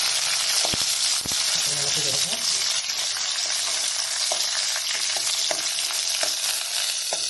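Green chillies fry in hot oil for a mango pickle, giving a steady, dense sizzle throughout with a few soft stirring clicks and scrapes, close and fairly loud.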